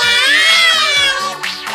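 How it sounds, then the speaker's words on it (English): A cat meows in a single long, loud, close cry with wavering pitch, over a faint music backing. "cat"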